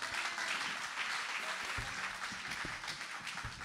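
A church congregation at a Sunday worship service applauds together in a sustained, dense round of clapping that stays steady throughout, with faint voices mixed in.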